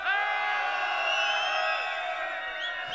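Club crowd at a live DJ event cheering and whooping loudly, a dense sustained mass of voices with rising shouts throughout, fairly close and full.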